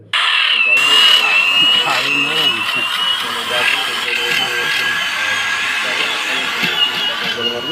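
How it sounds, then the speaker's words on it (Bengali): A drill machine bores holes into a traditional wooden racing boat under construction, giving a steady, high-pitched whine that runs through the whole stretch beneath nearby voices. "তিনটা গজলের জন্য তিনটা ছেদ্রু করতেছে ড্রিল মেশিন দিয়ে"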